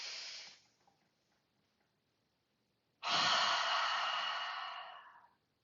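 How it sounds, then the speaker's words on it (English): Two slow, deep breaths close to the listener: a soft, fading exhale and then, after a short quiet pause, a longer and louder airy breath lasting about two seconds, with no talking. "And then take a deep breath."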